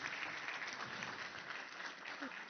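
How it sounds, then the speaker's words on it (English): Applause from a conference audience greets a government minister at an Europe–Africa tech event, a steady broadband wash of many hands lasting throughout with no gaps. "Je vous demande d'applaudir Madame la ministre Elisabeth Moreno."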